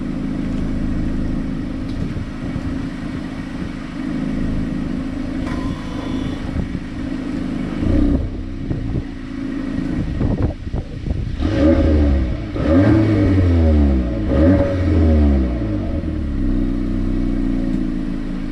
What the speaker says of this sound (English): I'm gonna rev it real quick.